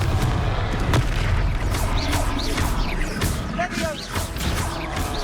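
Confringo fire spell blasting in Hogwarts Legacy during a battle: dense, booming explosive rumble that stays loud and continuous, with crackling impacts and combat effects layered over it.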